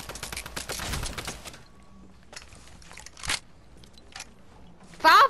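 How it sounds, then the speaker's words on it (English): Video game gunfire: a rapid burst of shots in the first second and a half, then scattered, sharper single shots spaced apart, with a loud final burst at the end. "What was you shooting at right there?"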